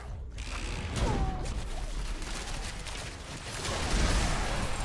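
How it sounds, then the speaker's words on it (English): Rapid fire skill attack in the Diablo 4 video game: a dense, continuous wash of clattering, mechanical combat noise that swells louder near the end, with no talking. "let's clear all of you out now with my rapid fire"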